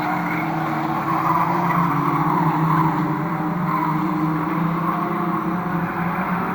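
Trailer race cars cornering at Fleet Raceway, a close, loud, continuous layered engine drone with strained tyre noise as several cars push through a bend together.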